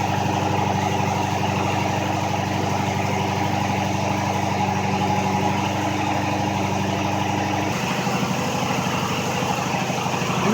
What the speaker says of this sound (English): You can still hear that it's on fast idle.